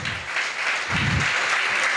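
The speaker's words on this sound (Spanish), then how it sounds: "Aleluya, fuerte ese aplauso." A church congregation applauds loudly and steadily during an early-morning evangelistic service, dense clapping filling the room throughout without pause.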